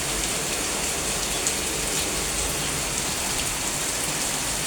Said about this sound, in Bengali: এত জোরে বৃষ্টি যা বলার মতো না